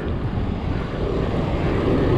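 Strong wind roars steadily against the microphone while riding along a highway climb, a dense, continuous low rumble with no talking.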